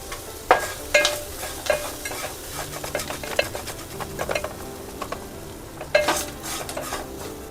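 Green chillies roast in a pan for a cucumber roti chutney, giving a steady close sizzle broken by scraping stirs, with no talk.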